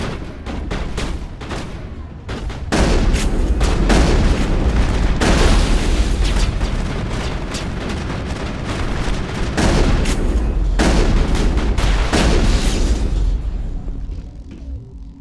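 A Mass Effect shootout brings dense bursts of rapid gunfire and booming impacts, loud and nearly continuous with short lulls between volleys.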